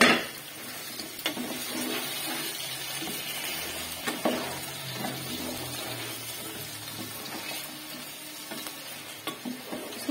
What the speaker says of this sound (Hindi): चिकन हमने डाल दी इसमें हाई फ्लेम पे।